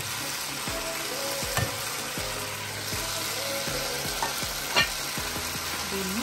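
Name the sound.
noodles tossed and stir-fried on high flame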